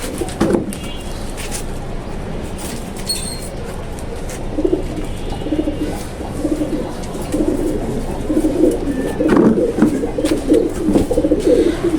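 A released pigeon coos in low, repeated throaty murmurs at close range, rising in the second half over steady background noise.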